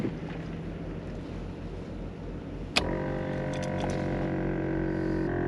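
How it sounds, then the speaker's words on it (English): An air compressor on an off-road 4x4 kicks on abruptly midway, a steady mechanical drone with a tonal whine settling in over rumbling wind and vehicle noise. "Air compressor is pumping up"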